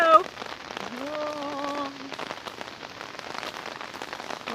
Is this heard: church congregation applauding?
no